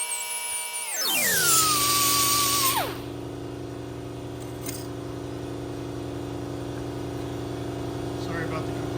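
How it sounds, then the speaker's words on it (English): An air compressor in a sheet-metal workshop spins up with a loud rising whine that drops off after a couple of seconds, then settles into a steady, continuous motor hum for the rest of the clip, with no talking. "Sorry about the compressor noise."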